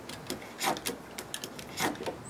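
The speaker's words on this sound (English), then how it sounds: "I'm going to take a utility knife and I'm going to cut this" A utility knife scores a wooden decking board with a series of short scratchy cutting strokes in an uneven rhythm, close but fairly quiet, with no voices.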